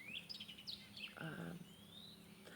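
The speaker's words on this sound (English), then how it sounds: "I can hear a bird song" A single bird sings a few thin, rising whistled phrases, faint and fairly distant, over soft background noise.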